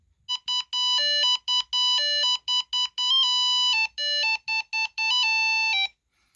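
The alarm of a Super Mario Bros Game & Watch handheld sounds as a lively tune of clean electronic beeps, rapid and evenly paced, close and clear with nothing else audible.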